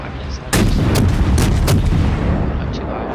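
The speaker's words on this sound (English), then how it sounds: "like the sound of, you know, shooting off your guns" Warship main guns firing in the World of Warships naval battle game, several loud booming shots in quick succession with a rumbling tail, a voice speaking faintly underneath.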